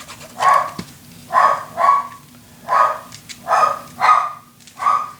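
A dog barks in a steady series of about seven sharp, fairly close barks, spaced roughly evenly with short pauses between them.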